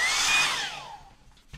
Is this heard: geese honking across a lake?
no